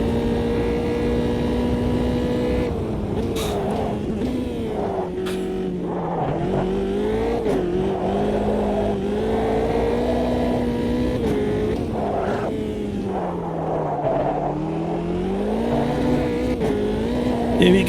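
Race car engine in the Automobilista 2 racing game, revving continuously with constant throttle changes that make the pitch rise and dip, loud and close for the whole stretch with no talking.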